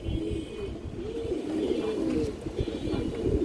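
High-flying pigeons coo in low rolling phrases that repeat several times, close and moderately loud, with faint rustling and no talk.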